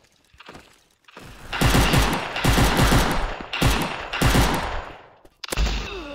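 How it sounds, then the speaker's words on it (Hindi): Shotgun blasts in the Maskgun first-person shooter, a burst of heavy repeated shots that comes in several loud volleys with short gaps between them, then a final shot near the end. No one speaks. "ये तो बिल्कुल हमारे एरिया में आकर के शॉटगन यूज कर रहा है"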